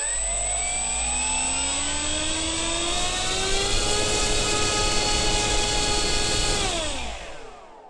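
The electric motor of an FMS P-39 RC plane spins the propeller at close range, a loud rising whine with strong harmonics that holds steady, then winds down near the end.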